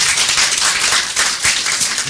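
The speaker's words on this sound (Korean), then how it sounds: "박수 한번 이쯤에서 주문해 주시면 좋을 것 같아요." Clapping from a lecture-hall audience at a public talk on African songs, a dense continuous wash of many hands that stays fairly loud and even the whole time, with no voices on top.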